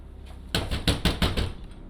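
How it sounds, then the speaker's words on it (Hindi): A fist bangs hard on a locked room door: about six heavy, loud thuds in quick, uneven succession, close up and alone after a short quiet start. "ऐसे में निहाल की परेशानी बढ़ जाती है और वो जोर जोर से दरवाजा पीटने लगता है।"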